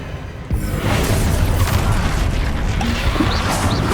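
Bombardo explosion spell cast in Hogwarts Legacy: one heavy boom about half a second in, followed by a sustained loud crackling, rumbling blast that carries through to the end.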